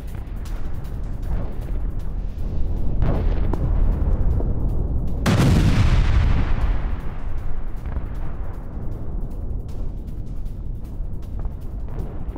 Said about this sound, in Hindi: रूसी सैनिकों पर बमबारी की ये तस्वीरें देखिए